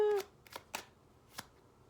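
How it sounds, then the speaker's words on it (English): Tarot cards being shuffled by hand: a few quick, crisp riffles and flicks come in short separate bursts, close and fairly quiet, with a brief tone at the start. "The Five of Pentacles flipped over while I was shuffling."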